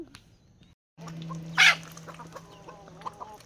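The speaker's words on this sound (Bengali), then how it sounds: "এই তো আমি হাঁসগুলো ছেড়ে দিয়েছি," Village ducks let out to feed give a few close, short calls over quiet farmyard background, with one loud burst of calling about midway.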